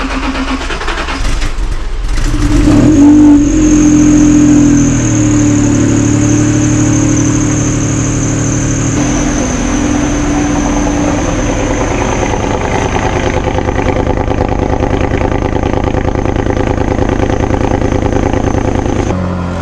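A Honda NSX fires up with a loud, close engine rev, then settles into a steady rumbling idle with a throaty exhaust note that holds for the rest of the stretch.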